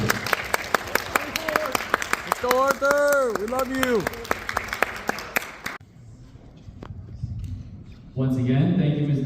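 Audience applause and clapping for a speaker being welcomed at a school talk event, loud and sustained with people cheering and shouting over it, then fading into quieter crowd noise before talk resumes.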